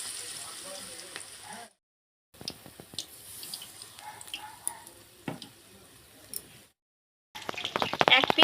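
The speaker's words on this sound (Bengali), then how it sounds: "ধনেপাতার পকোড়াগুলো কত সুন্দর ভাজা হচ্ছে" Coriander leaf pakoras dipped in gram-flour batter fry in hot white oil in a kadai, a close, steady sizzling and crackling broken by two short silent gaps, louder at the end.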